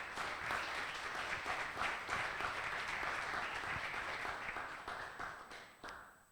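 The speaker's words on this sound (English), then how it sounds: "So a big applause for Rodin." A conference audience applauds a presenter after a talk, a dense steady round of clapping from many hands that holds for several seconds and then fades out.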